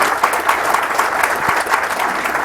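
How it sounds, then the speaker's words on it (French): Warm audience applause at a company address, dense steady clapping from a large crowd, loud and continuous with no voices over it. "je vous souhaite que nous applaudissions très chaleureusement"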